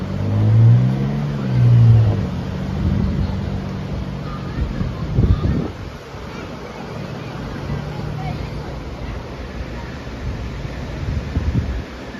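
A car engine revs in drive while the vehicle is winched out, with loud low rumbling bursts early on and a steady drone later, over wind buffeting the microphone and some talk.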